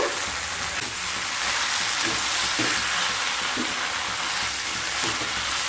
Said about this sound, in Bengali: নারকেল কোড়া দিয়ে আবারও খুব ভালোভাবে মিশিয়ে নেব